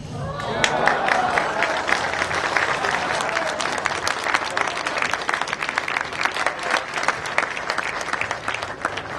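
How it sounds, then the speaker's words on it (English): Wedding reception guests break into applause, a dense crowd of clapping hands with sharp individual claps standing out, lasting the full stretch and thinning slightly toward the end, with a voice heard briefly at the start. "How about another round of applause, ladies and gentlemen?"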